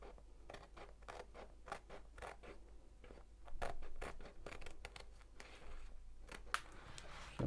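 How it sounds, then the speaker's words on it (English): Scissors cut along a magnetic frame strip for a diamond painting, a close, quiet series of crisp snipping and scraping strokes, irregular in rhythm, with no voices. "So if anything, I want to cut slightly inside the line, that way nothing sticks up."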